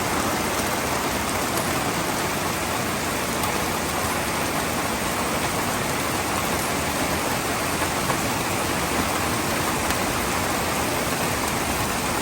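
Heavy rain pours down steadily on a calm, windless day, a dense, even hiss that fills the whole stretch with no pauses and no voices.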